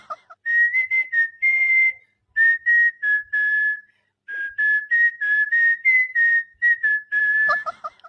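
A person whistles a lively tune in clear, bright phrases separated by short pauses, close and alone with no other sound behind it.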